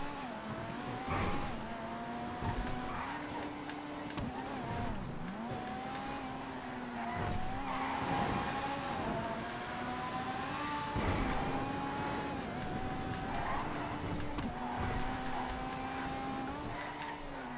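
A race car in GTA FiveM racing, engine note rising and dropping through repeated gear changes as it brakes and corners, with tire squeal, loud and continuous throughout.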